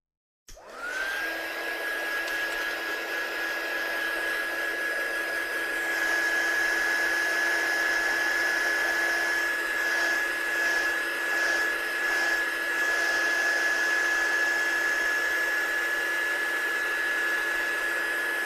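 A heat tool blows steadily to dry watercolour on a handmade card, a loud continuous whirring roar with a high whine that starts abruptly and holds unbroken for the whole stretch.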